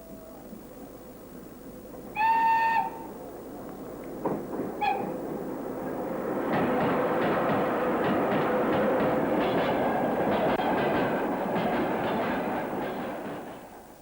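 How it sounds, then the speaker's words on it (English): A steam-hauled train rolls along a single-line section of rails in Ukraine with a steady rumbling clatter, preceded by a brief high whistle-like squeal and a few clanks. "Frequent stops were made on the single-line section to allow trains to pass"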